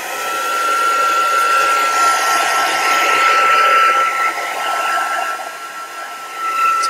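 A heat gun blows a steady, loud whooshing hum while heating a bleach art experiment, running continuously with slight dips in level near the end.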